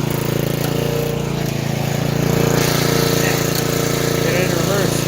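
A Sears Lil' Poppy riding lawn mower's small engine runs loud and close, holding a steady buzzing chug throughout.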